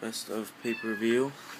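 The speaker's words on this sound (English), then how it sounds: "Sorry, that's the cat again." A house cat meows several times close by, a series of short tonal cries with a longer drawn-out final meow, and a person talks around them.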